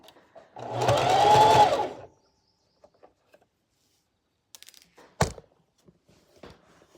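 A sewing machine stitches through fabric for a dress photography prop in one steady run of about a second and a half, followed by quiet with scattered small clicks and a sharp thump.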